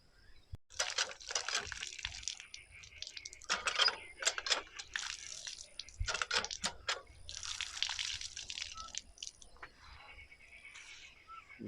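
Dry dates being rinsed by hand in water, with repeated splashing, sloshing and dripping bursts close by, no talking over it.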